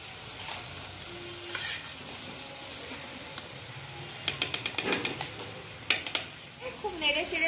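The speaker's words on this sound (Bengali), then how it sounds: "তো এখন এটাকে ভাজবো চাপা দিয়ে দিয়ে।" Spicy vegetable filling for mini puli pitha frying and being stirred in a pan, with soft sizzling under scraping and clinking utensil strokes that grow busier toward the end.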